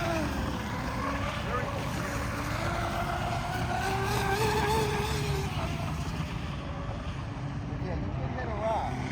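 Aquacraft Lucas Oil radio-controlled boat running across water, its small motor whining steadily with shifting pitch for several seconds, fairly close, with voices talking over it.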